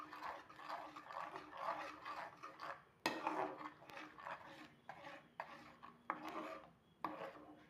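Spice powders being mixed into paneer butter masala in a pan, a close rasping scrape of spoon against the pan repeating in uneven strokes, with a few sharper knocks.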